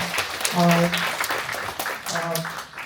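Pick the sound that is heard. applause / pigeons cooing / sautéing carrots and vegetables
applause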